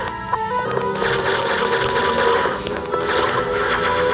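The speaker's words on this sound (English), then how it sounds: "let's just blast our way through this thing" Weapon fire and blasting in the Metroid Fusion video game sound as a dense run of electronic beeps, chirps and rapid zapping bursts at steady loudness, with no voices.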